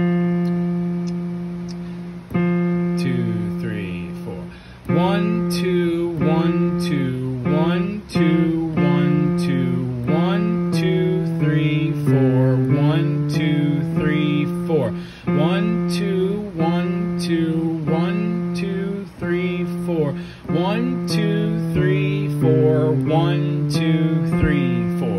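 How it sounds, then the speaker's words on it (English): Ukulele or piano notes play a steady counted rhythm exercise, a run of evenly spaced plucked tones that continues loud and alone for about twenty seconds. "if I were going to be playing that on the piano or on the ukulele, it would sound like this"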